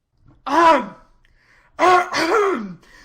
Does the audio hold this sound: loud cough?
yes